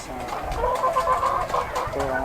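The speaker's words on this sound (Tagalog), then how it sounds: "ating munting manukan ilang piraso lang alaga" A small flock of about ten chickens in a rooftop coop clucks and murmurs continuously, close by and moderately loud, the soft overlapping calls filling the short stretch.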